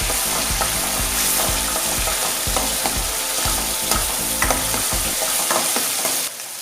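Masala roasting in a pan while being stirred, a loud close sizzle with rhythmic scraping strokes of the spoon repeating about twice a second, no talking.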